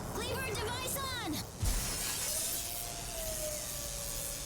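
Glass shatters with a bright crash in the Ar Tonelico video game, a burst of high, scattering shards over steady background music, followed by a low thud and a sustained tone.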